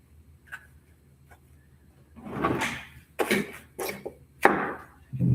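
A drawer is opened and rummaged through, giving a few scattered clicks, then louder rustling scrapes and knocks of items being shifted, close by with no voices.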